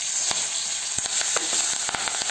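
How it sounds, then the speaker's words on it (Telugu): Cumin and crushed pepper frying in oil in a kadai, a steady close sizzle dotted with small sharp crackles and pops. "వేడైన తర్వాత ఏమి జీలకర్ర మిరియాలు దంచుకున్నామో దాన్ని వేసి ఒక 2 మినిట్స్ ఫ్రై"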